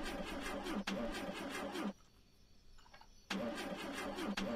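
Car engine in The Long Drive video game cranking and firing up twice, a loud starter churn followed by a short quiet gap, then a second crank-over that catches, close and prominent.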